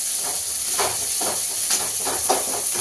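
Small onions and green chillies sauté in hot oil for homemade poori, giving a steady close sizzle and hiss, with soft crackling bursts rising and falling throughout.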